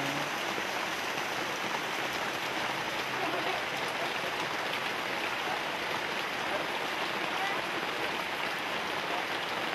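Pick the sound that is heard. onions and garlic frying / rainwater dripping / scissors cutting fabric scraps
rainwater dripping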